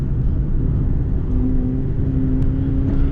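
A car engine blips and revs during a heel-toe downshift from fourth to third gear on a race track, a loud steady close drone from inside the car with no talking.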